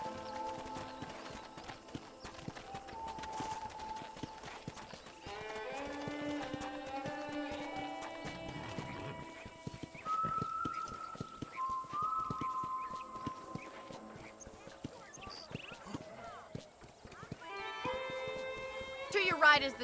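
Steady horse hoofbeats clip-clop throughout alongside Red Dead Redemption game music with whistle-like melodic tones on a ranch, and people talk over them.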